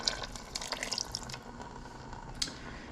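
Beef broth poured over food in a pot gives soft liquid splashing and scattered drips, quiet and close, with no voices.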